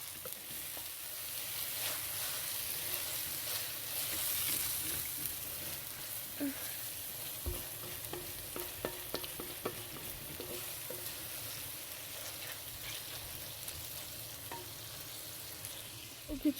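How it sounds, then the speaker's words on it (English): Tomato and chili fry in a pan for aloo keema, a soft steady sizzle with occasional scraping and stirring clicks from a spoon, fairly quiet and close. "now we added tomato and chili and mix until tomato melts"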